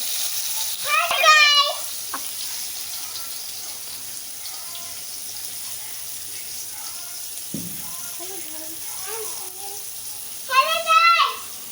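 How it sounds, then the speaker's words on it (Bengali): Bananas frying in a pan as a small child cooks, a steady soft sizzle running throughout, with a voice speaking briefly near the start and again near the end. "এই যে অর্ঘ কলা ভাজা করছে"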